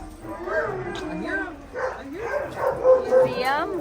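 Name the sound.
puppies barking and yipping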